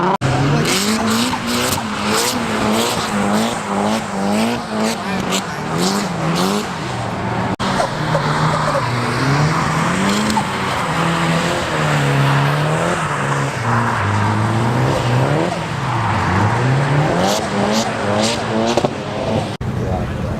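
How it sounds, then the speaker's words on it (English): Drift cars spin at Sonoma Drift, their tires squealing in long, wavering, pitch-bending howls over continuous engine roar, loud and sustained throughout, with people talking in the background. "there's a lot of spinning right now"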